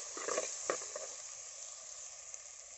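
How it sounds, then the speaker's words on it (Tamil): Onion and tomato sautéing in a pan for an eggplant and goat trotter curry, a steady close sizzle with a few louder stirring crackles near the start, then even frying hiss with no talk. "வெங்காயம் தக்காளி வணங்கிட்டு இருக்கேன்."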